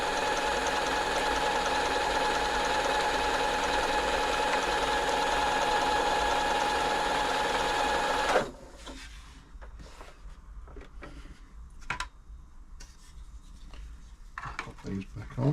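A freshly serviced Janome Atelier 6 sewing machine runs steadily with a smooth, even mechanical hum for several seconds, then stops, leaving faint clicks and handling noises.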